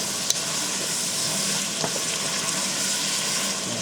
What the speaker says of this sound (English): I'm just going to mix everything, incorporate it nicely.